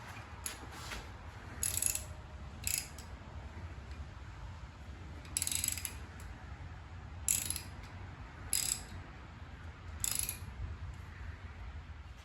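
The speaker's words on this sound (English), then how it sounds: "While Waylon's working on removing the head bolts" A ratchet loosens head bolts on a 1937 Harley Flathead UL engine, sounding as short bursts of sharp, close clicks spaced a second or two apart over a quiet garage background.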